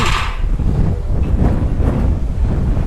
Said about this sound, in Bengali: সুরজিৎকে দেখুন কি অবস্থা হচ্ছে হাওয়াতে